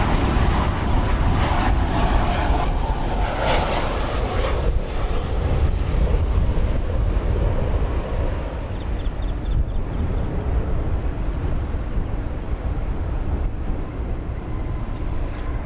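A Delta Boeing 737-800 on flight 521 from LAX rumbles past at Dallas/Fort Worth, a loud, dense jet roar that eases slightly about halfway through and carries on without any voices.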